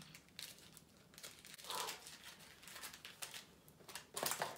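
Crinkly plastic string of diamond painting drills rustling and crackling in bursts, close by and fairly quiet, with brief louder crunches toward the end; no talking.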